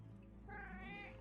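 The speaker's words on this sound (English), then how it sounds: "Cat noise." A cat meows in a drawn-out, wailing call, close and fairly quiet over a low background hum.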